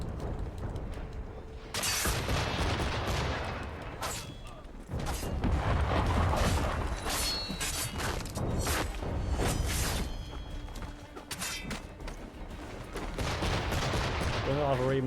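Repeated gunshots and heavy firing bursts from Assassin's Creed III Remastered, loud volleys spread across the whole stretch with mechanical clatter and brief whooshes between them, and a voice speaking at times.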